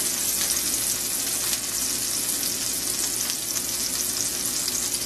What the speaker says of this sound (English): So we got the onions going